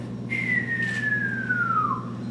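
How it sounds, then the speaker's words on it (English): A model rocket in its coast phase gives a single clear whistle gliding slowly downward in pitch for over a second and a half, over a steady low hum and background noise. "when you're into the coast phase, it whistles. And you can hear this thing whistle."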